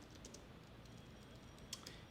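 A search is typed on a computer keyboard. The keystrokes are quiet and soft and sit over a steady background hiss.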